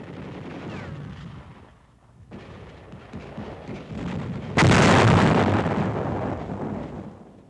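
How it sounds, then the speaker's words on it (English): A high explosive demolition charge set off to seal a hillside cave in wartime combat, heard as a sudden heavy blast midway after a lower rumbling background, followed by a long, loud roaring tail. "Demolition men prepare a high explosive charge to seal Japs in a hillside cave"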